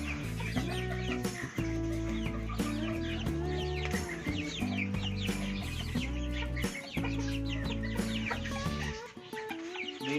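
Hens cluck in short, choppy bursts at close range, over a dense bed of loud background music that plays throughout.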